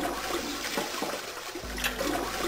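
Toilet flush inside the Zero Escape 999 game: one loud gurgling rush of water that fades, then a second surge starts near the end, close up with no talking.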